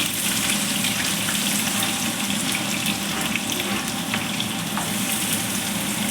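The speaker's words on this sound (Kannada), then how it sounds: "ಒಂದು ಬಾಂಡಿಗೆ ಎಣ್ಣೆ ಕಾಯಕ್ಕೆ ಇಟ್ಕೊಂಡಿದ್ದೀನಿ ಒಂದು ಸಣ್ಣದಾಗಿ ಕಟ್ ಮಾಡ್ಕೊಂಡಿರೋಂಥ ಹಸಿಮೆಣಸಿಕಾಯಿ ಹಾಕೋತಾ ಇದ್ದೀನಿ ಹಾಗೆ ಈರುಳ್ಳಿ ಕೂಡ ಹಾಕೋತಾ ಇದ್ದೀನಿ" Finely chopped green chillies and onion fry in hot oil in a pan for egg bhurji. A dense, even, loud sizzle hisses without a break from start to finish.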